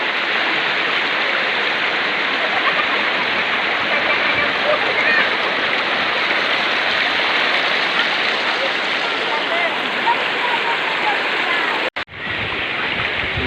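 The Palauig River rushes steadily over rocks in a constant, loud broadband roar, ending with a brief abrupt dropout near the end.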